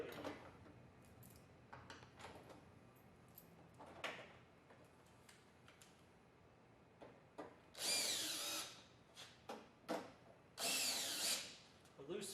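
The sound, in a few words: power screwdriver driving screws into truck tailgate bedliner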